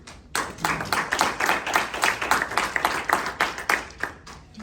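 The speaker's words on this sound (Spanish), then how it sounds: "para quien yo les pido un aplauso" An audience claps for an author at the presentation of a new book edition, a steady crowd applause of many hands with a regular, pulsing rhythm that swells and holds for several seconds.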